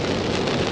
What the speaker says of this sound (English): witness something almost never seen in the area: rain